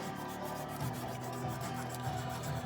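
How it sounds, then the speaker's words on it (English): Hand sanding of a turned pen with 320 grit sandpaper: a steady, close rubbing and scratching with gentle rhythmic back-and-forth swells, continuous and alone. "just going back through using a 320 grit sandpaper on it and just getting some of that chafing out"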